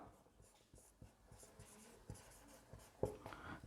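A pen or pencil scratches across paper in short, irregular strokes while notes are written by hand, faint and close, with a louder scrape near the end.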